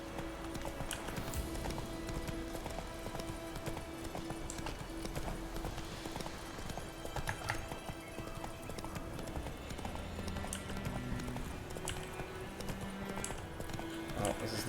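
Roach the horse gallops in The Witcher 3, a steady rapid clip-clop of hooves that runs throughout over game music and ambience, with someone talking at times.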